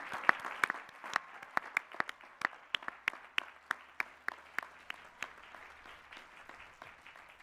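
Audience applause at a graduate commencement ceremony honoring new Doctors of Philosophy, a steady dense wash of many hands clapping with sharper individual claps standing out, moderately distant and slowly thinning toward the end.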